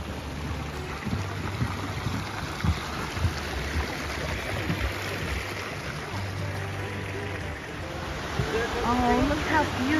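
Steady flowing water runs at Cascade Springs, Utah, a continuous broadband rush heard throughout, with people chatting and moving nearby over the constant flow.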